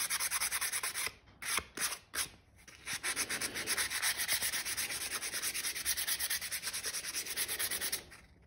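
Wood being sanded in a woodworking shop, heard as a close, continuous abrasive rasp that holds for most of the stretch after a few short opening bursts and brief pauses, then cuts off near the end.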